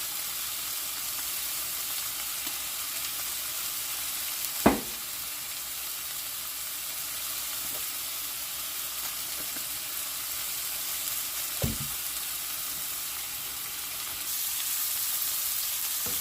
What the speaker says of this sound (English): So as you can see, it's grilling now.